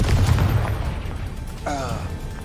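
A Confringo fire spell blasts in Hogwarts Legacy, a sustained explosive rumble with a brief whooshing, crackling burst near the end, heard amid continuous game combat noise.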